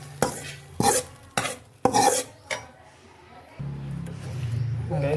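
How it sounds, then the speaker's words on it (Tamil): Snake gourd kootu being stirred in a pan with a spoon, several loud scraping strokes at a steady rhythm, followed by a soft sizzle of oil underneath. "எல்லா பக்கமும் நல்லா கிண்டிடுங்க"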